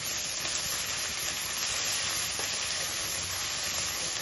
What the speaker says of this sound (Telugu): అల్లం తెల్లగడ్డలు పేస్ట్ వేద్దాం అందులో